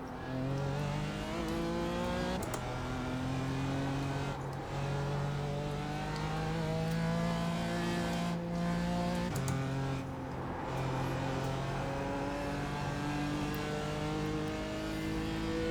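BMW M4 GT4 race car engine at Summit Point in iRacing, repeatedly revving up through gears with rising and falling pitch, loud and continuous, with brief shift gaps and no talk.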